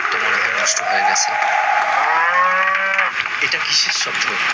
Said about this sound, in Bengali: গরুটা চিল্লাচ্ছে কেন এইভাবে?